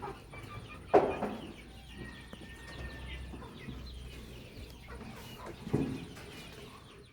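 Chickens, a rooster and hen sold as a pair at a livestock sale, cluck and call at a distance, with two louder bursts standing out over steady low background noise.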